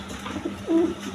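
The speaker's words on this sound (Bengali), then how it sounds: "দর্শকবৃন্দ এখানে এক পেয়ার কবুতর আছে, দেখেন কিং কবুতর" A king pigeon, one of a pair with red markings, gives a single soft coo close by, heard alone over a low steady background hum.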